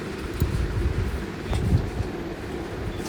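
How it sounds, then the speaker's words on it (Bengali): A train rumbles along steadily with low, rolling noise and a few faint clanks, heard from inside a carriage. "ট্রেন চলছে"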